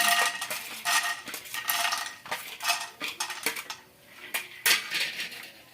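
Peanuts stirred into ghee in a pan with a metal spoon make close, irregular clinks and scrapes in quick bursts, with no talking.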